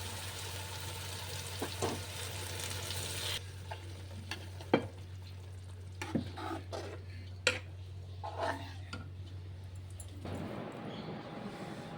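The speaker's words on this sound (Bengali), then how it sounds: "মশলাটা ভাজা হয়ে গেছে, এবারে ডালটা দেব" Dal tipped into a pan of fried spices in a home kitchen sizzles loudly at first, then settles into a softer sizzle with repeated scraping and clinking stirs against the pan.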